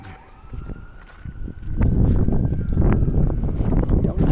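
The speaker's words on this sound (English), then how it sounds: "I hear a siren." A fire truck siren wails on a snow-covered city street after a big storm, its tone rising and held, starting faint and growing louder amid footsteps and traffic rumble.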